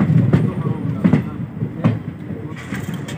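A train at Cooch Behar railway station rumbles past with a loud, rhythmic clatter of wheels, the beats spaced under a second apart over a constant low drone, with muffled voices in the background.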